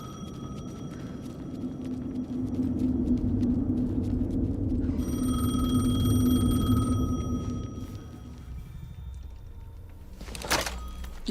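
In the video game Alan Wake 2, a telephone rings with repeated electronic tones over a low droning ambient rumble, followed by a brief thud near the end.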